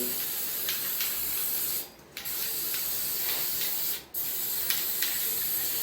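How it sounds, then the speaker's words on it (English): Continuous hissing of a spray nozzle misting cleaner onto a 225 intake manifold from a 1974 Dodge D100, broken by two brief pauses between sprays. "Well, I found me another spray nozzle."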